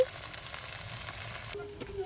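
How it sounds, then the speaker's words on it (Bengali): Okra sizzles in hot oil in a pan, a soft, even crackling hiss that runs steadily for a couple of seconds, close and moderately quiet. "এদিকে ঢেঁড়স ভাজাটা আমি বসিয়ে দিয়েছি"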